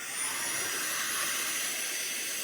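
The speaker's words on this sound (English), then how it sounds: "when you turn it on, it will be loud since I'm right next to it, but it is remarkably quiet for a cordless vacuum" A Tineco S50 Pure One Pro cordless vacuum runs in auto mode close by, giving a loud, steady high-pitched whir that holds evenly for a couple of seconds with no voices.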